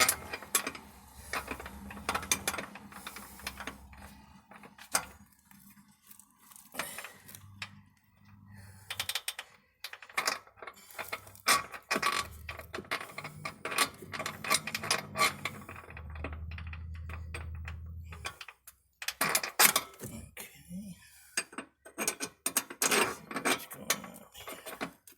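A bolt is tightened with a ratchet on an RV fifth wheel's Lippert electric front jack leg, with intermittent runs of close clicking separated by pauses, clanks and handling noises.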